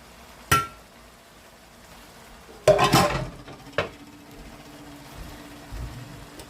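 Egg noodle pasta dropped into an oven-safe pan, a few sharp clattering knocks and a rattling scrape, separated by quiet gaps.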